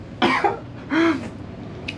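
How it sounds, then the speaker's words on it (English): Two harsh coughs close to the mic, a short gap between them, followed by faint room noise. "I don't know why I'm coughing"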